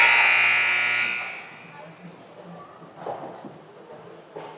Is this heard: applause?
no